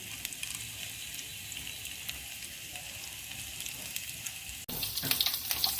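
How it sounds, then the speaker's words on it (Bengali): Grated ginger, dried chilli and fenugreek seeds sizzle steadily in hot oil, a dense crackling hiss that swells louder near the end as the spices are stirred. "নেড়ে চেড়ে নিচ্ছি ভাজা ভাজা করে নিয়ে"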